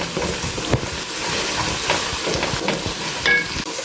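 One and a half cups of chopped onions sizzle and fry in a pan for a bottle gourd curry, a steady loud hiss with occasional stirring scrapes and a few brief clinks.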